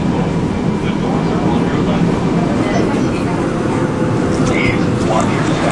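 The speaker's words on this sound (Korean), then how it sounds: "구로에서 천안까지 지하철로 1시간 40분." Steady low rumble and rushing noise of a Seoul-area subway train running from Guro to Cheonan, heard from inside the carriage, continuous and fairly loud with a faint higher squeal near the end.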